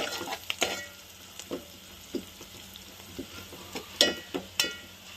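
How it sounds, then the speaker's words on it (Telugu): Turmeric stirred into onions and chana dal frying in a pan, for a ridge gourd curry: a steady soft sizzle with scattered scraping strokes of the spoon, close and fairly quiet, with no talking. "దీంట్లో పసుపు వేసేసుకుందాం పసుపు వేసుకుందాం ఇప్పుడు వీటిని ఇప్పుడు కలిపేసుకుందాం"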